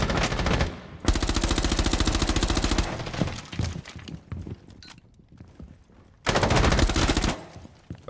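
Rapid automatic gunfire in Rainbow Six Siege, with two long sustained bursts and a third burst later, separated by scattered single shots, clanks and footstep-like clatter at close range.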